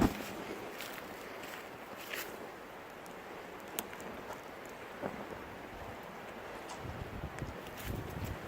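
Wind buffeting an outdoor microphone, a soft, irregular rumble with gusty bursts and faint rustling throughout, no talking.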